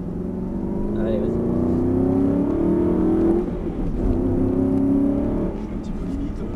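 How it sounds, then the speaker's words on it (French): On a track, a V8 car engine pulls hard, a loud steady drone that rises in pitch through two long acceleration sweeps, heard from inside the car. "Il fait un bruit sympa aussi, hein. C'est un V8 aussi"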